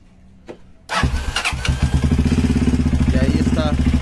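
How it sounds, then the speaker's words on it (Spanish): After a quiet moment, a motorcycle engine that had a no-spark fault cranks and fires, then settles into a loud, close, steady rumbling idle. "vamos a proceder a arrancar la moto."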